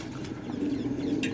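Pigeons leaving their nesting boxes, with soft cooing and a faint flutter of wings over a steady low background hum that runs through the whole short stretch.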